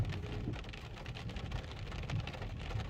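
Steady rain falls in an olive grove near Jerusalem, a soft, even hiss of drops with no voices.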